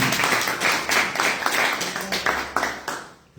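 An evening audience claps in a short burst of applause, with distinct overlapping hand claps pulsing unevenly and tapering off within a few seconds.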